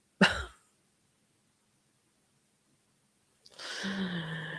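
A short, sharp sneeze bursts out at the start, then quiet, before someone begins talking close by.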